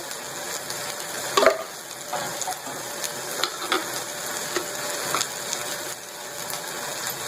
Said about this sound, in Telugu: ఇదైతే ఆయిల్లో ఫ్రై అయిపోయింది